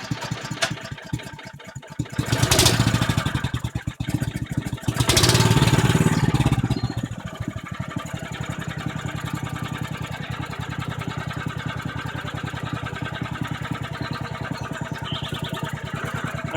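A generator engine cranks with a couple of loud surging bursts, then settles into a steady mid-pitched idle that runs evenly and continuously to the end, close and moderately loud.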